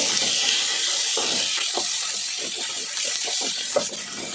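Curry leaves sautéing in hot oil in a pan for an oil-rich eggplant curry, a continuous bright hiss and sizzle with faint scattered stirring clicks.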